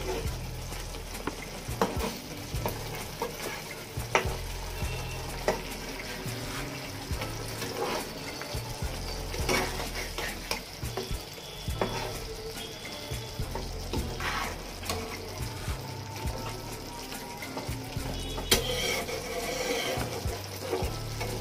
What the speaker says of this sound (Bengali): মাছগুলো সরিষার সাথে অনেকটাই কষানো হয়ে গেছে।